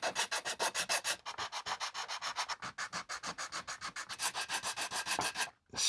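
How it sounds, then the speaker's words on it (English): Rhythmic back-and-forth scraping of filler being smoothed onto a Lawgiver prop pistol build, steady close strokes repeating quickly for several seconds, then a brief pause at the end. "Scrape this in that reverse scraping method. Try to smooth it out."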